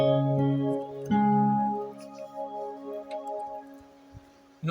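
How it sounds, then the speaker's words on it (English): Yamaha Motif synthesizer with a piano voice layered over a pad, sustained harmonic chords with a soft attack that swell once, then hold and fade, heard alone without talk. "Voice 2 now is now pad."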